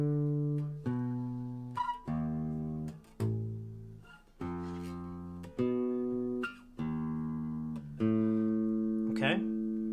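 A bass guitar plays a sequence of sustained notes, each plucked tone ringing for about a second before the next, clean and up close.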